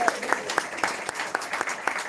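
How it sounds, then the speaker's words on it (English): Applause from an audience at a business book awards shortlist reveal in 2024, steady clapping with a scattering of sharper individual claps, moderately loud and continuous over about two seconds. "So a huge round of applause for Pearson,"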